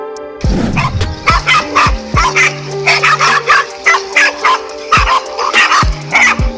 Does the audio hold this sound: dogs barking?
yes